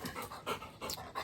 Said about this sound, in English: My dog came to visit.